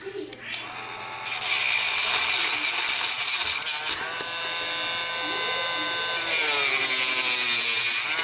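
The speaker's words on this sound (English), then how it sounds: "what I do is I just cut a piece off of the sprue here." Sawing or cutting a piece off a plastic model kit sprue during a Corgi 267 Batmobile restoration, a steady close rasping and whirring that runs almost the whole time with a short dip in the middle.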